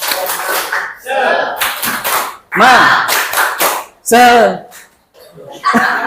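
Children and a teacher in a classroom perform the rhythmic tepuk semangat clapping chant, sharp clap patterns alternating with loud group chanting voices in distinct bursts.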